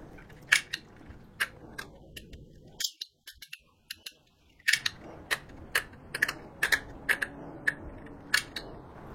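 Typing on a computer keyboard, sharp separate key clicks in an irregular, fairly close rhythm, with a brief quiet pause partway through.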